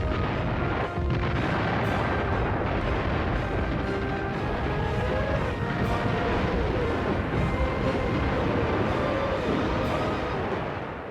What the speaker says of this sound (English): a huge German artillery barrage opened up along a front almost 85 miles